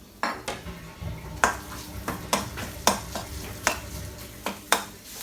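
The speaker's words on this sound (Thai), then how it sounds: "ผัดพริกแกงให้หอมก่อน" Thai red curry paste being stir-fried in a pan for a wild-style dory fish curry: eight or so sharp spatula scrapes against the metal, spaced irregularly, over a low, steady sizzle, with no one speaking.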